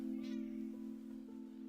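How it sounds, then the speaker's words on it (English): A domestic cat gives a short, faint meow early on, over a strong steady low hum and soft background noise. "That's my cat."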